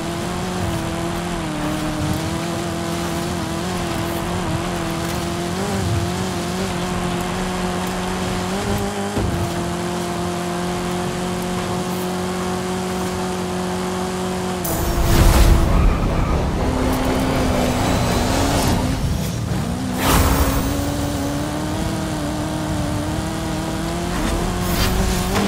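A VW Andretti Beetle races along a dirt road in a video game, its engine droning and shifting pitch through gear changes, with a loud burst of tyre and gravel noise midway and a steady engine hum throughout.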